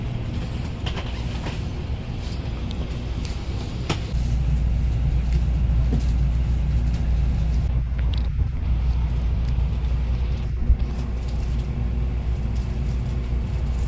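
The Tokaido Lumiere Express, a special overnight Shinkansen train, pulls out of a Tokyo station platform at night, with a steady low rumble that builds and continues, joined by faint creaks and mechanical clatter, with no talking.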